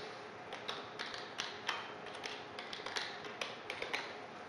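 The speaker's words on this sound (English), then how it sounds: "So I go with my keyboard and type Harry Potter" Quiet, irregular tapping of keys on a computer keyboard, with several short bursts of typing and brief pauses between them and no voices.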